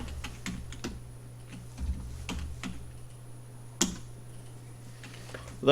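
Computer keys clatter in quick irregular bursts as commands are entered into CAD software, close and fairly light, with brief pauses between keystrokes and a faint steady hum underneath.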